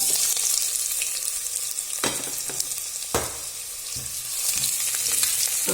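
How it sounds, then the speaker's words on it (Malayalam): Onions sizzle steadily in a hot pan while making ghee rice, with a couple of louder scraping stirs breaking through the continuous frying hiss. "ഇനിയിപ്പോൾ ഇത്തിരി സബോള ഇടാം"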